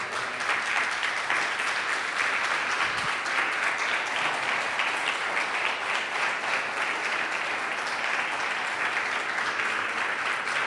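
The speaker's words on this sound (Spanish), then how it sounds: "Dale un fuerte aplauso a Cristo." Sustained, full applause from a church congregation, an even roar of many hands clapping that holds steady and loud throughout without any speech.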